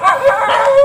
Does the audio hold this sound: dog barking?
yes